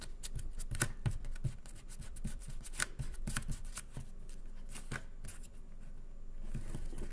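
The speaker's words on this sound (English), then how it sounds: "then we fold, and it's good to have a ruler to fold against" Paper craft pieces for toilet-roll superhero figures are folded and creased against a ruler, giving close, dry rustles and sharp little taps and crinkles in irregular bursts, with no voices.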